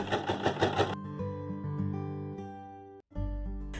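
A sewing machine runs in a quick burst of rapid stitching, attaching leftover edge tape to the top of a pocket-sized fabric piece, then its motor keeps humming steadily before a brief cutoff and restart.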